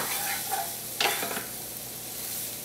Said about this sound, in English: Toss well to cover the broccoli with the flavors, the garlic, the cayenne and the olive oil. And saute for about 2 minutes to warm it through.